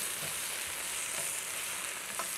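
Spinach sizzles and fries steadily in a pan with a little olive oil, a continuous soft crackle up close with no voices.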